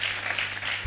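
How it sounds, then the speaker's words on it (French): A church congregation claps together in a dense, even patter of applause, close and steady for a brief moment with no voices. "Applaudissons le Seigneur Jésus-Christ."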